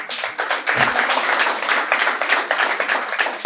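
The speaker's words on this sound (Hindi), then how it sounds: "तो एक बार आप मेरे लिए जोरदार तालियां बजा दीजिए।" A poetry recital audience answers the poet's request for applause with brisk, dense clapping from many hands, close and lively, continuing steadily throughout without speech.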